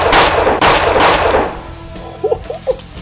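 A gun fires in a horror video game. A loud burst of rapid shots comes first, then the firing fades and a few quieter game sounds follow.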